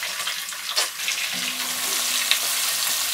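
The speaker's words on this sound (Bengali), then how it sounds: "পেঁয়াজগুলোর কালারটা পরিবর্তন হওয়া পর্যন্ত এগুলোকে একটু ভেজে নিতে হবে" Chopped onions sizzle in hot oil in the pan where prawns were just cooked, a steady close frying hiss with a brief stir-like clatter partway through.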